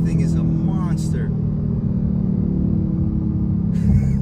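A 2022 Dodge Challenger R/T Scat Pack pulling hard in second gear while merging onto a highway, its deep engine rumble steady and loud inside the cabin, with brief voices over it.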